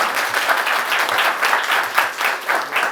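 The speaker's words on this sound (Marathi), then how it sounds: "त्यांच्यासाठी जरा जोरदार एकदा टाळ्या वाजवा" Loud, dense audience applause from college students at a road safety awareness campaign event, continuous rippling clapping with no talk over it.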